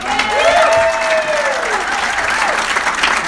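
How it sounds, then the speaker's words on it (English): Strong crowd applause for a police officer at a stand-up comedy show in North Las Vegas, a loud wash of clapping with cheering and a whooping voice rising above it. "Give him a round of applause."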